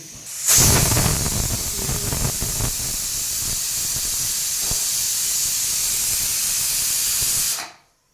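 A steady, loud rush of hissing steam from a pressure cooker whistle runs for several seconds without a break, then cuts off abruptly.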